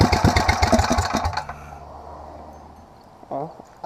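An 8hp mini bike engine fitted with a 26mm performance carburetor runs roughly with loud rapid firing pulses, then cuts off into a low fading rumble, with a brief voice near the end.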